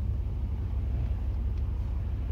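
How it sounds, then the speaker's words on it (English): Steady low engine rumble and road roar from passing tour buses, heard from inside a car with no talking. "wow, there's a lot of travel buses"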